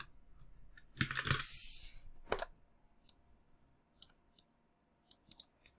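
Code is typed on a computer keyboard in short, close, sharp clicks: a quick flurry of keystrokes, a rustling burst, then isolated taps spaced a second or so apart in a quiet room.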